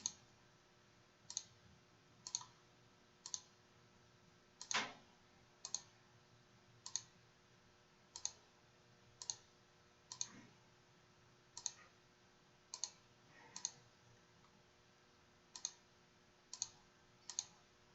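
Computer mouse clicking in a quiet room, about sixteen sharp, isolated clicks spaced roughly a second apart, close and clear with no talking.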